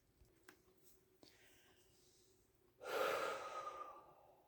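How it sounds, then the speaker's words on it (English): A person slowly breathes in a quiet room, with faint soft breaths early on and then one deep, fuller exhale up close that trails off. "I'm just cleansing my breathing, slowing it down."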